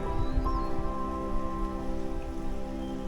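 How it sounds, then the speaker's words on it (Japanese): Steady rain begins falling in the mountains near Koyasan in Wakayama, a soft continuous patter on surfaces under a faint low hum, with an occasional distant bird call. "と思ったらまた雨が降り出しました。"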